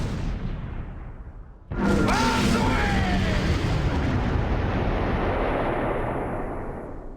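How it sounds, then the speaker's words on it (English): Airstrike explosions from the World War II video game Close Combat 4, Battle of the Bulge at Wiltz: after a quieter start, a sudden loud blast at about two seconds gives way to a long rumbling roar that slowly fades. "The airstrike is placed incorrectly."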